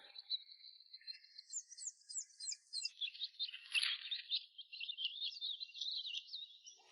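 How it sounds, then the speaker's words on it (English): Baby birds chirp in a forest in quick, high, repeated tweets that run together in a busy, continuous stream, close and fairly clear. "And I hear baby birds chirping."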